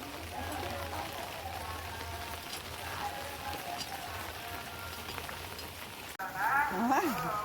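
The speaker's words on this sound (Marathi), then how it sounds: "हे बघा मस्त पाऊस पडतोय" Steady monsoon rain patters on surfaces in a soft continuous hiss in rural Konkan, Maharashtra, with a person speaking briefly and some louder movement near the end.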